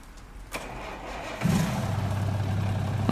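A truck with a Cummins engine in American Truck Simulator cranks with a short click, then catches and settles into a steady low idle, close and moderately loud.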